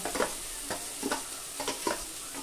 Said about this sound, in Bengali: ভেজে নিতে হবে, পেঁয়াজ আদা রসুনটাকে। দেখুন তো আদা পেঁয়াজ রসুনটা এরকম একটু ভাজা ভাজা হলে এবার আমি টমেটোর পেস্টটা দিয়ে দিব।